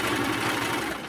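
A sewing machine runs steadily while stitching a rolled hem on a fabric sample, a continuous, even mechanical whir with a fast rhythmic chatter, close and loud throughout with no talking.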